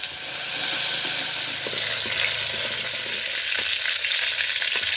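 Fresh curry leaves crackle and sizzle in hot oil in a pan over a wood-fired stove, a steady, loud, close hiss with no talking.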